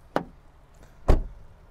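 Two solid, dull thuds about a second apart, close by: a 2022 Peugeot 308 SW rear door opened and then shut firmly, with nothing else in between.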